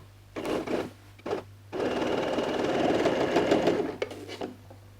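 Sewing machine stitching stretch fabric for a T-shirt with a half-inch seam, in three bursts: two short runs and then a long steady stretch of close, even whirring, with no talking.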